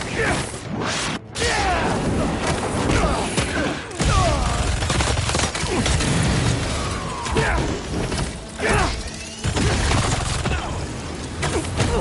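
Dense bursts of gunfire and crashing impacts in the Amazing Spider-Man 2 video game, loud and chaotic throughout, with voices shouting under the din.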